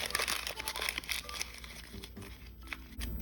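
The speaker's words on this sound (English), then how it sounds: "We're going to take a sheet of paper and I'm going to crumple it up in my hand" A sheet of paper is crumpled up by hand into a ball for a paper sculpture, close-up crinkling and crackling in quick irregular bursts, quiet and continuous with no talk.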